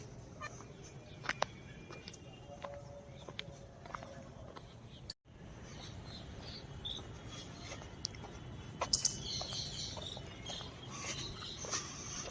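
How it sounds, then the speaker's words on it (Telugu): Early-morning outdoor ambience around sunrise on a trip to Jhansi Fort, with faint scattered bird chirps and insect or cricket-like trills over a steady low background hiss, with a brief dropout midway. "సో అలాగా morning bird sound and sun రైజ్తో చాలా బాగా స్టార్ట్ అయింది."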